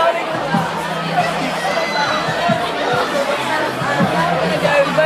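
Steady crowd chatter and babble at a lively student union election night, many voices overlapping close by with occasional laughter and no break.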